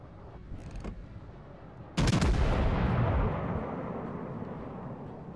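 Warship guns fire in the World of Warships Legends video game: a short crackle, then a sudden heavy boom whose rumble rolls on and slowly fades over several seconds.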